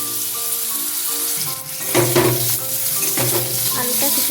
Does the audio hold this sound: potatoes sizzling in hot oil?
yes